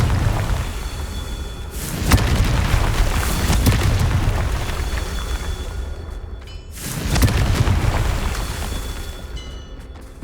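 Confringo fire spell explosions in a Hogwarts wizarding video game, two loud booming blasts a few seconds apart, each with a sharp onset and a long rumbling tail, dense and close.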